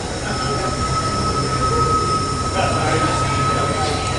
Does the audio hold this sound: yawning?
no